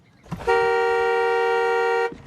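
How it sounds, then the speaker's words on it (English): A single long, steady car horn honk, loud and close, holding for about a second and a half before cutting off. "when I inhale, my titty make the horn honk"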